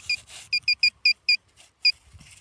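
A metal detector sends out a series of short, bright electronic beeps while searching for coins, about six quick pulses in a row and then one more after a pause, loud and close against near silence.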